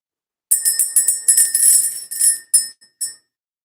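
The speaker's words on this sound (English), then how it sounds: "let's ring the bell" A bright, high bell rung during an energy-clearing ritual, struck repeatedly in quick succession with shimmering rings that overlap, then a few separate strikes that trail off; close and loud, with no voices.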